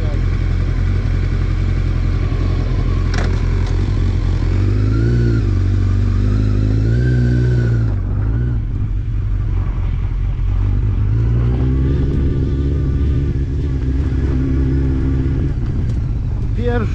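Sport motorcycle pulling away, its engine revving and rising in pitch over a constant loud rumble, close throughout with some wind noise.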